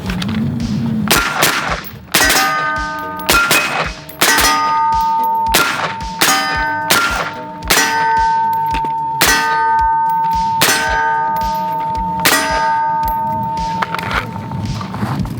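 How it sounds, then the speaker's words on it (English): AR-style rifle with an adjustable gas system firing at steel targets, a series of about a dozen sharp shots, each followed by a bright ringing clang of hit steel that hangs briefly, at an irregular pace. "I think we just need to shoot a little bit now"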